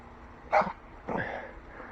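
A dog outdoors on a rural property gives two short barks or yips about half a second apart, moderately loud against a quiet background.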